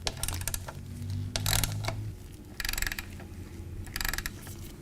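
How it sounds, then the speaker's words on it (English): Socket wrench with a 5/8 inch socket ratcheting on the primary drain plug of a Harley-Davidson motorcycle, in several short bursts of quick, close clicking separated by brief pauses. "You're going to want your 5/8 inch socket and your socket wrench."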